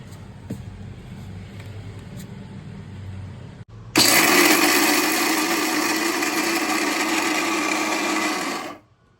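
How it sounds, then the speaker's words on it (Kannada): An electric mixer grinder grinds roasted peanuts into homemade peanut butter. After a few seconds of quiet background, the motor starts abruptly and runs loud and steady for about five seconds, then cuts off; there is no talking. "ಅದನ್ನು ನೀಟಾಗಿ ಗ್ರೈಂಡ್ ಮಾಡಬೇಕು, ಫುಲ್ ಮಿಕ್ಸ್ ಆಗಂಗೆ ಗ್ರೈಂಡ್ ಮಾಡ್ಕೊಳ್ಳಿ"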